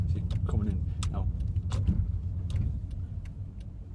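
Car on a road, its engine rumbling steadily and fairly close as it approaches, with people talking over it during a driving lesson.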